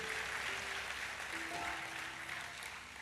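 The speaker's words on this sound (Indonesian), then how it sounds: "Kita kasih tepuk tangannya meriah buat Tuhan kita" Church congregation applauding for God during a sermon on happy marriage: a steady, dense wash of clapping that fills the whole stretch at an even level, with faint tones drifting underneath.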